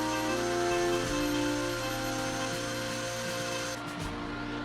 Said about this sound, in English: I use a Dremel 105 to outline the stars and a Dremel 106 to fill in the inside of the stars.